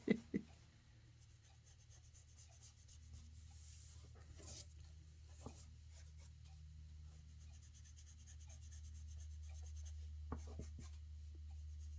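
A pen inks a drawing for a book cover, giving soft, continuous scratchy strokes close by over a low steady hum, with a few light taps and no voices.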